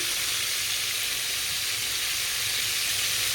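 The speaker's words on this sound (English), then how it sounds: "I'm gonna let these saute in the oil for about 5-6 minutes" Chicken sautes in hot oil in a pan, a steady close sizzle and hiss that stays even throughout with no talking.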